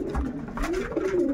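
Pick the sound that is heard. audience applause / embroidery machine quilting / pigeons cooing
pigeons cooing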